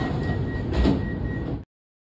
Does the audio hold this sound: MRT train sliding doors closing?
yes